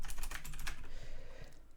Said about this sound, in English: I'm just typing everything wrong today.